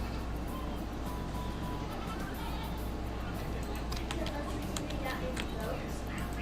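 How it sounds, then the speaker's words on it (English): Goats bleat repeatedly in a video game, the calls mixed into a dense, steady game soundscape with low background rumble and speech-like noise running throughout. "why do I hear goats?"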